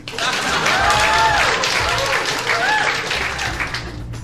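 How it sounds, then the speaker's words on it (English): Canned sitcom applause in the video game Deponia: steady crowd clapping fills the scene, loud and even, with a few whooping voices rising over it. "parody of very bad sitcoms with tapes containing laughter and applause."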